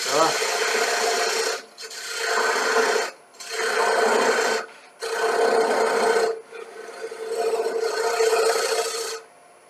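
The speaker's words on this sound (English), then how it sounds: "small ball gouge just to remove fast" A small ball gouge cuts a wooden bowl spinning on a lathe in a live turning demo, giving loud, close, raspy shaving bursts in five long passes separated by short pauses.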